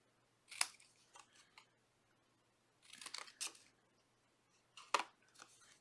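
A piece is mitered and its bottoms chopped off, making a few short, sharp snipping cuts spaced apart over near-silent quiet, with a brief cluster of crisp snips in the middle.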